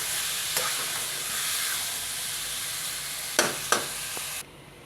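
Tengra fish curry sautéing in a pan, a continuous bright sizzle with a few sharp scraping strokes of stirring near the end before the sizzle abruptly drops away.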